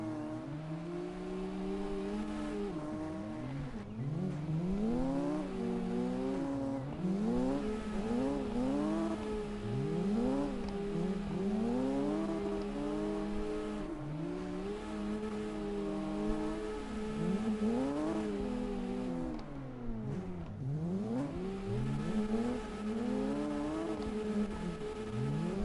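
A Nissan S13 drifts, its engine revving in repeated rising and falling sweeps with sharp throttle blips, loud and continuous throughout with no voices.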